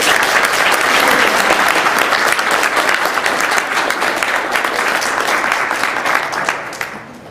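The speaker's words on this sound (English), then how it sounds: "Let's give her another round of applause." A large audience at a dinner event breaks into loud, sustained applause that fills the space, with dense clapping holding steady before tapering off near the end.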